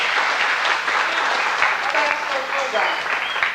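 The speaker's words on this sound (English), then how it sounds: "That's round of applause for Terry and Wendy." Audience applause for two performers at a Walt Disney World show in 1989, a steady, full wash of clapping throughout with voices mixed in.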